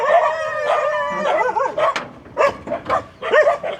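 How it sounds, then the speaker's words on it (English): Several dogs bark, yip and whine excitedly in quick irregular bursts, loud and close, with howling tones in the mix. "Doggos!"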